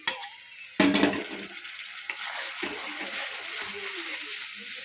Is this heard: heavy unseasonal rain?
no